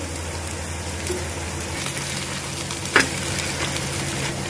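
Whole spices sizzle in hot oil in a clay pot for a village-style pulao, a steady close frying crackle with one brief stir or clatter partway through.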